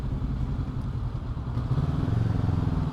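Engine of a BMW lightweight adventure motorcycle, heard with the clutch pulled in: a steady, loud, close mid-range drone with rough clattering texture, rising slightly in the second half.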